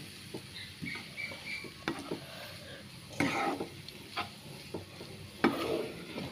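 Spices being mixed by hand into chicken sausage meat, making soft wet squelching, patting and slapping sounds in irregular bursts, close and fairly quiet, without talk.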